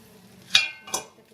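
A spatula scrapes and stirs onion-tomato masala with softened peas in a pan, two distinct close strokes over a quiet simmering background.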